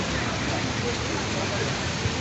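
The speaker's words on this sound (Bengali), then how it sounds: "এই বৃষ্টির মধ্যে।" Steady rain pours over Dhaka city, a dense continuous hiss that fills the whole moment without pause, loud and close, with faint low traffic-like rumble underneath.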